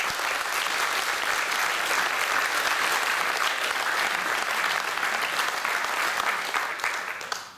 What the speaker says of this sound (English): So I'm going to ask you all to give yourselves a huge round of applause.